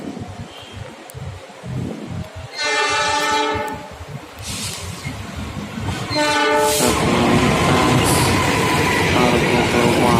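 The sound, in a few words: CC 206 locomotive train passing with horn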